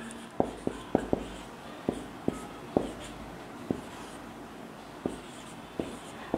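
Chalk or marker writing a chemical formula for tetraamine copper sulfate on a board: a quiet series of irregular sharp taps and short strokes spread over several seconds, heard alone in a quiet room.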